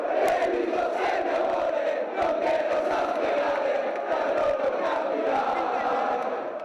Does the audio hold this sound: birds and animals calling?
no